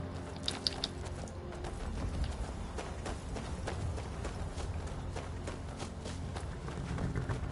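Steady clip-clop of a horse's galloping hooves in the video game Skyrim on PlayStation 4, fairly close and continuous, over a low ambient rumble with no voices.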